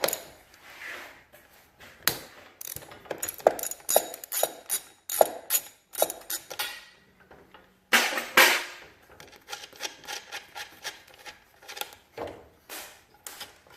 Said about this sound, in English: Let's take the bottom bolt out.